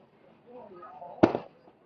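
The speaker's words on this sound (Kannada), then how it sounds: "ಪಟಾಕಿ" A single firecracker bursts with a sharp, loud bang followed by a brief crackle, rising out of low background murmur and fading quickly.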